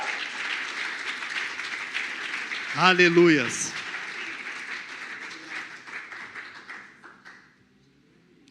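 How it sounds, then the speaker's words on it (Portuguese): Church congregation applauding during a Portuguese-language sermon, steady clapping running under a preacher's voice and calls from the crowd, with a short louder surge before the applause thins and fades out. "Aplauda Jesus, aplauda Jesus."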